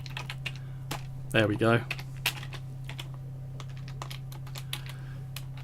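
Keyboard typing with quick, irregular clicks spread across the whole stretch, close and clear over a steady electrical hum; a voice speaks briefly near the start.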